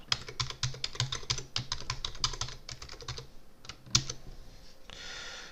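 Someone types a root password on a computer keyboard during an ESXi setup, a close run of quick key clicks followed by a firmer keystroke and then a faint soft hiss; no talking.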